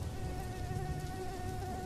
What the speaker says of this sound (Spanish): ese maldito zancudo